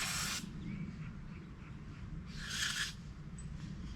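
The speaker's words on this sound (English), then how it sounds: "Let's spray a little carb cleaner down there." Carb cleaner sprays from an aerosol can into the crankcase of a John Deere 212 garden tractor engine, two short sharp hissing bursts at the start and middle over a low steady rumble.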